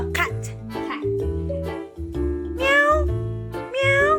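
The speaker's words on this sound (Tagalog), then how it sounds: "Cat. Cat." A cat meows several times, with drawn-out, rising and falling calls close by. Soft voices and background talk sit between the meows.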